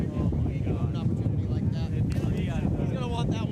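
Strong wind gust buffeting an outdoor microphone during a ball hockey game, a loud continuous rumbling roar with fluttering noise; a commentator talks over it.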